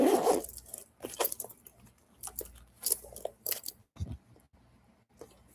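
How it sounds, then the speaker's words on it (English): A zipper on an MCM designer handbag is worked in short bursts of rasping pulls and clicks, close and fairly quiet, with pauses between strokes. "This zipper thingy goes in there, snaps right here."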